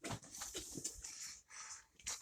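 A dog pants and whimpers in short rapid bursts, close and fairly quiet, with brief pauses between the breathy cries.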